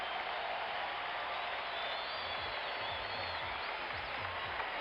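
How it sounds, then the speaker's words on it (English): A packed arena crowd at an NBA Finals Game 6 championship game in Portland, Oregon roars in a dense, steady wall of cheering and applause, loud and sustained throughout with no talk over it. "listen to the crowd"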